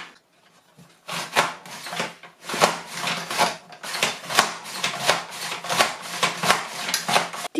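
A juicy tomato being sliced on a Nicer Dicer Mando mandoline: a steady run of quick, close rasping strokes, about a dozen in rhythmic succession, with no talking.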